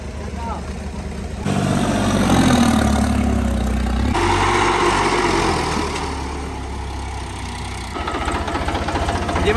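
A tractor engine runs close by, a low, rough, knocking throb that swells and eases as the revs shift, with people talking over it at times.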